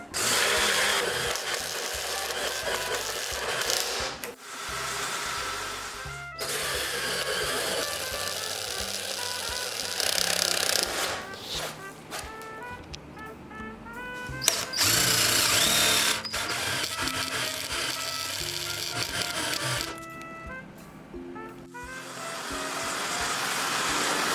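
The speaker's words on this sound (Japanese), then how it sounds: "それでは穴を開けていきます。" Power drill boring holes in an old metal locker, a steady loud motor whine running through repeated drilling passes with short breaks, close up and without speech.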